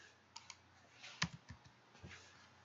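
Soft, quiet keystrokes tap out a short command on a computer keyboard, several irregular clicks spread over a couple of seconds with no talking.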